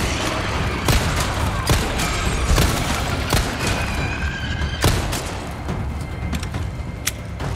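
Gunshots in Resident Evil 4 Remake ring out as sharp, loud cracks spaced irregularly through the clip, about eight reports over steady in-game ambient noise.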